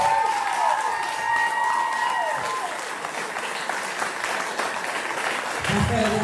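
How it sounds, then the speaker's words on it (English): Crowd applause and cheering for an award winner at a women's under-64kg strongman competition, steady clapping over about six seconds with a brief tone at the start. "Round of applause for Katie Foster."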